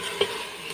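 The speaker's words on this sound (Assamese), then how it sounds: "অলপ ভাজি" Pork curry pieces fry in a pan with little oil as the gravy dries out, producing a continuous close crackle with a sharp scrape of stirring near the start.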